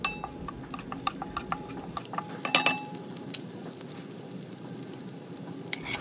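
Garlic sautés in a pan, a faint continuous sizzle broken by scattered light clinks and scrapes of a utensil stirring, all fairly quiet with no talking.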